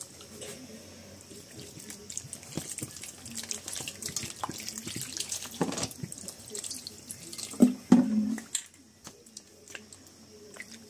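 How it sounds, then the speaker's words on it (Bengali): Tap water runs over soft flour dough as it is washed, a steady low splashing with drips and sloshes that swell briefly near the end, while a voice speaks quietly at times. "এই ময়দাটাকে খুব ভালো করে ধুয়ে নিতে হবে"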